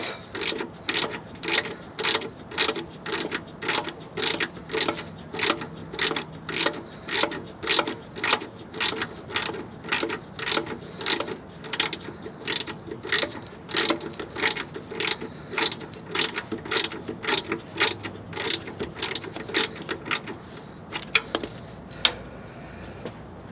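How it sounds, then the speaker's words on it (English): Ratchet wrench loosening the cable clamp on a Jeep Wrangler battery terminal, a steady run of close, sharp clicking strokes repeating for about twenty seconds before trailing off into a few scattered clanks. "here I'm taking the wire from the battery off"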